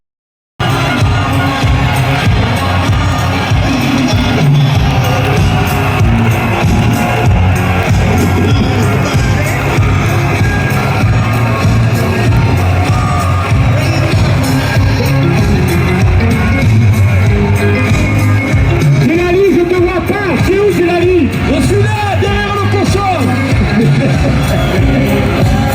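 A crowd at a bullring arena event for Intervilles 2024 claps and cheers loudly and continuously, with shouts and whoops rising out of the dense roar throughout.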